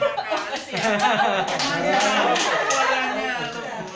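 A small group claps together at a casual gathering, a dense burst of hand claps with some chuckling and voices mixed in, fairly loud and close.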